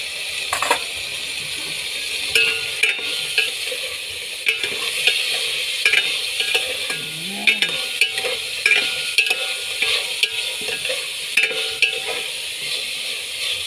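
Ingredients for chicken tinola frying in a pan in a home kitchen, with a steady soft sizzle under repeated sharp scraping and clanking of a utensil stirring against the metal.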